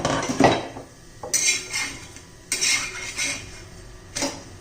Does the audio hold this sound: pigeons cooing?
no